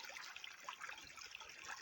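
A small river flows toward an estuary beside a smoking grill, its faint, steady trickling and babbling water continuing throughout.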